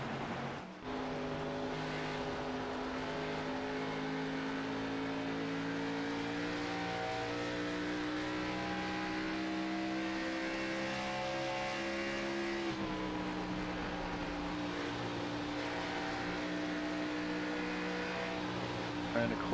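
Race cars lapping Darlington in a racing video game, several layered engine tones whining and shifting in pitch continuously, close and loud, with a brief dip partway through.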